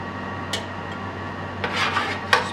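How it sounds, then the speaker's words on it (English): Roast potatoes, carrots and parsnips being spooned from a roasting pan onto a plate: a few short scraping rasps of the spoon against the pan, close and fairly distinct over a steady background hum. "Spoon them out onto the plate."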